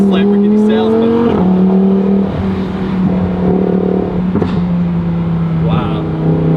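Lamborghini Huracan Tecnica engine droning loud and steady from inside the car, its pitch stepping through gear changes with brief lifts, while a person talks over it.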